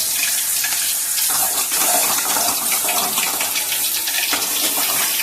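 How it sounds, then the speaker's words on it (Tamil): Chana dal balls hiss and bubble steadily in hot oil, a loud, continuous broadband sizzle with a denser surge near the start. "எண்ணெய் காயுது, நம்ம எண்ணெயில் போட்டுக்கலாம்."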